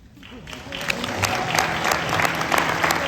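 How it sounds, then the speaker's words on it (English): Applause from an audience at a foster care award ceremony honoring the 2025 winner, building from quiet to a sustained clapping crowd over three seconds with some voices mixed in. "Please give a warm round of applause to Ms. Heather Huebner"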